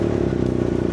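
A motorcycle engine idles and revs steadily at close range during a sound check, a loud continuous throb with a brief clattering note partway through.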